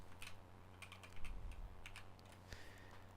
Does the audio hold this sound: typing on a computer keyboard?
yes